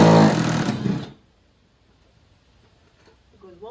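A power tool loosens the seat bolts inside a 1000 hp Hellcat, with one loud, harsh mechanical burst lasting about a second before stopping, followed by near silence and a faint sound at the end.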